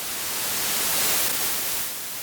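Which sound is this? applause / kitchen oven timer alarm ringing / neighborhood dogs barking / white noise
white noise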